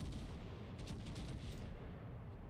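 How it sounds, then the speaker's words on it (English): Continuous rumbling naval gunfire in a warship battle game, with dense booming shots blending into a steady loud roar for a few seconds, no voices. "He's shooting at you."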